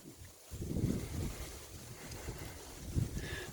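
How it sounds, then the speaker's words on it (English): Wind gusting across a microphone at Ellisbeck Lake in France Park, a former rock quarry in Logansport, Indiana, making a steady, close buffeting rumble with no talking. "The wind may be a little bad, but this is what we're looking at."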